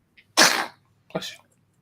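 A single sharp, close sneeze bursts out, followed a moment later by a smaller second sneeze or snort.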